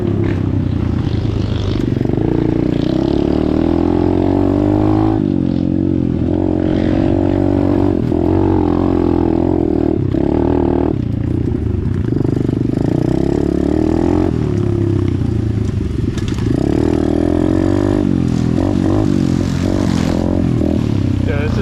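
An Apollo DBX15 Chinese pit bike engine drones and revs while riding over rocky ground, its pitch rising and dropping through repeated downshifts, loud and close with wind noise over a continuous stretch.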